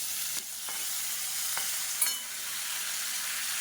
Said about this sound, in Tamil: இப்போ தக்காளி ஓரளவுக்கு வதங்க ஆரம்பிச்சிருச்சு.